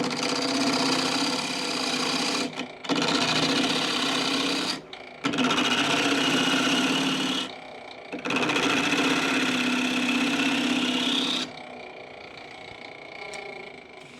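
Wood lathe turning a bowl, a loud, harsh scraping cut in long continuous passes broken by short pauses, ending in a quieter spinning hum.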